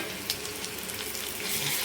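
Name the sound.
grated raw mango paste sizzling in tempering oil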